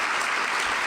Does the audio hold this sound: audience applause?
yes